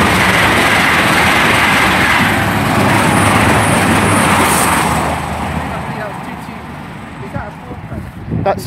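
A Class 800 train roars loud and steady through Cholsey station on its run from Cheltenham Spa to London Paddington, a close rushing pass that fades over the last few seconds.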